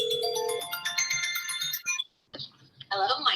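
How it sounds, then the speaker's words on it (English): An incoming-call ringtone on a mobile phone plays a bright, repeating melodic tune for about two seconds, then cuts off. Voices and background chatter follow as people talk. "So I'm calling you right now."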